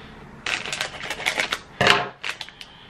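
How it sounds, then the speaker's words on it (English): Close, crisp snipping and crinkling as scissors cut open a mystery sticker and keychain package, in a few short bursts with brief pauses between. "so we're gonna use my scissors"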